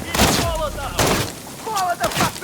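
Gunfire erupts in Call of Duty Modern Warfare III as several sharp bursts of shots ring out, mixed with shouted voices in the middle of combat.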